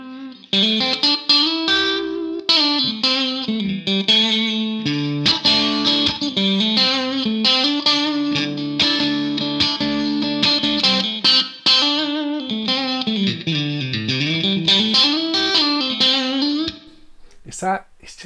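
Fender Stratocaster, a 2013 Mexican model, played clean through the bridge and middle pickups, a continuous melodic run of picked notes with chorus-like shimmer for about seventeen seconds, ending in a brief pause and a final strum.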